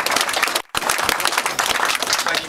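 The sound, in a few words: audience applause at a museum opening ceremony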